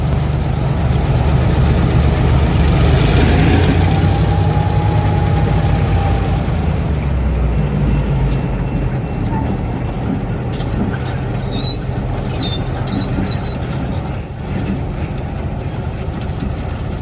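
A railroad locomotive idles with a loud, steady low diesel rumble that holds throughout, with faint higher squeals and clanks from the train cars.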